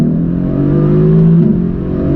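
A 2025 Mercedes-Maybach GLS 600 SUV engine rumbles close by in a steady, deep drone that swells slightly as it revs.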